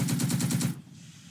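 A light machine gun in the Second Front video game fires a fast, even burst of about eight rapid shots. The burst is close and punchy, then cuts off abruptly into quiet.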